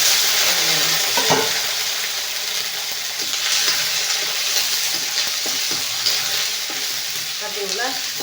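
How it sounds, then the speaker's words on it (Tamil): Curry leaves sizzling and frying in a pan of ground onion, tomato and dried red chilli paste, with steady close crackle and occasional stirring scrapes throughout, no talk. "இப்போ கருவேப்பிலை போட்டு அப்படியே அரைஞ்சி வச்சுருக்கிறேன்."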